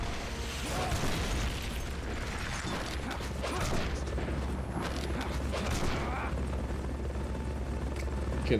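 Helicopter rotors thrumming steadily overhead in the Metal Gear Solid: Peace Walker video game, a continuous low chopping drone with mechanical clanks and bursts of game effects, while someone talks over it.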